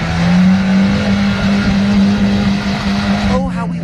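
A Lada Niva 4x4 drives hard through mud, its engine droning loud and steady with a sustained low hum and rushing road noise close by, before a brief change near the end.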